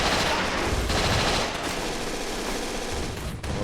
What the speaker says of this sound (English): Those weapons sound wonderful.